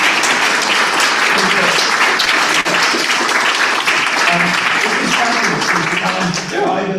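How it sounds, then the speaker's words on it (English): Audience at a neighborhood council meeting breaks into applause, loud continuous clapping filling the room with some voices mixed in. "How about a wonderful big round of applause?"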